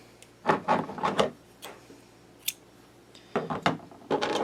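Scissors snip through yarn in a short series of close crisp cuts and rasping strokes, pausing before a few more snips, with no talk, while working a small knitted pumpkin made on a knitting machine.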